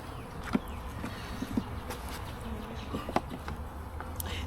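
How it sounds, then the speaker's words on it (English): Honeybees at the front of a hive make a continuous low buzzing, with scattered sharper bursts as individual bees fly close past, steady and fairly faint throughout. "robbing frenzy at the front of the hive"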